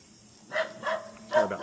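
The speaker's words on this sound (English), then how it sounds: "Sorry about the dogs too." Dogs in a neighbouring yard bark in three short bursts at moderate distance, alone and without talk, beside an idling Skygo Boss 150 motorcycle.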